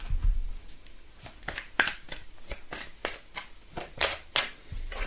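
Tarot cards being shuffled by hand, a steady run of close, crisp riffling flicks and slaps repeating in quick succession for several seconds, with no talk.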